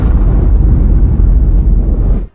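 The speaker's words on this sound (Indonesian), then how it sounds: "bom pun meledak." A bomb detonates in a Korean thriller film, a loud, dense low roar that sustains for about two seconds before cutting off abruptly.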